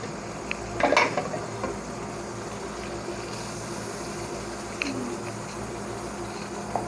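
Tomatoes go into a cooking pot for a pasta masala and are stirred with a spoon, giving a few clattering spoon-on-pot knocks over a soft continuous sizzle, with a couple more scrapes later.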